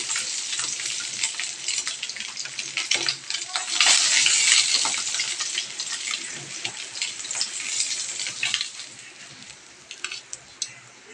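Fish frying in hot oil gives a loud, steady sizzle and crackle, with bursts of spattering throughout.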